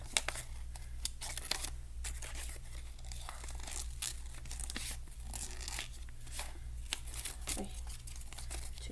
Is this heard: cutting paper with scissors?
yes